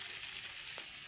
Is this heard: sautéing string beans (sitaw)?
yes